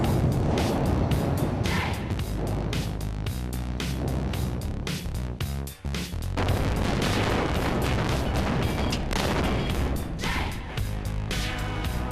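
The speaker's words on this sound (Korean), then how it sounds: "터널 안쪽에서 폭발음이 들려온다." Blasting charges detonating inside a subway tunnel under construction, heard as a dense barrage of sharp cracks and booms echoing for about twelve seconds, with a brief lull midway.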